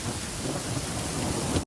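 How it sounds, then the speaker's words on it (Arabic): Heavy rain and hail hammer down during a thunderstorm in Hail, Saudi Arabia, a loud, dense, continuous roar with deep rumbling underneath that cuts off abruptly. "بردية على حائل الآن والرعود ما تقف ما شاء الله"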